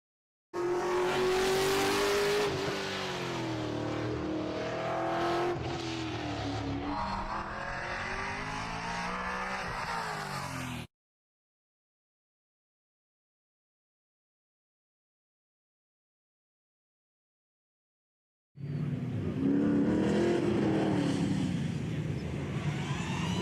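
A race car launches on a hill climb run at UMI Motorsports Park: a loud close engine roar rises through the revs with tire squeal, cuts out to silence, then the roar returns.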